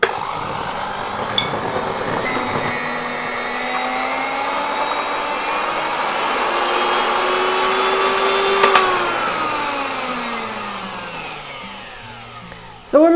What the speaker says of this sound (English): I'm just gonna use my hand mixer to combine